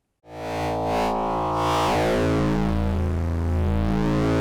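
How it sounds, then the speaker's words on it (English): An Intellijel Shapeshifter Eurorack module fades in with a dense, distorted synth tone whose timbre morphs and sweeps as it moves through its wavetable, sustained and close with a shifting, chorus-like shimmer and no talking. "Or hear as you go through the wavetable."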